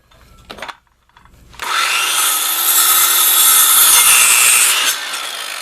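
A hand saw cuts through a wood board with steady rasping strokes, loud and close, running for several seconds alone after a few brief scrapes and a pause.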